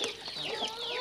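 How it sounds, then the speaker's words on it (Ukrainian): Several chickens cluck and murmur close by in a farmyard poultry yard, soft continuous fowl calls over a steady background, with no voices. "Курочки чекають уже чисту воду."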